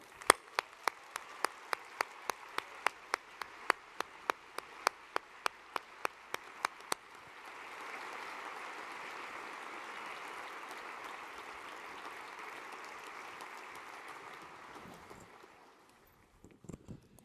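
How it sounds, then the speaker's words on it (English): Evenly spaced single claps from a few hands at a startup competition finals event, then a broad swell of steady audience applause that tapers off toward the end. "Let's give him a round of applause."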